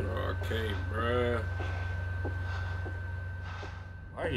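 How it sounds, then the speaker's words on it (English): In The Devil in Me video game, a character breathes heavily and audibly through the nose, with gasps and snorting inhales, over a steady low hum. A voice speaks at the start and end. "You can just hear this man breathing."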